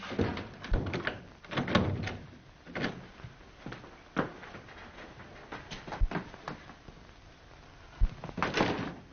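A door locked from the outside being tried, with repeated rattling, knocking and thumping of the handle and door in irregular bursts over several seconds, moderately loud with occasional sharp bangs.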